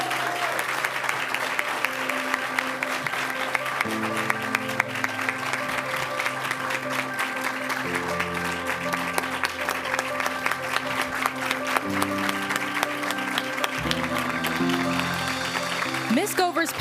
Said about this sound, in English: Let's get the applause going for this year's MCPS Rising Star Award winner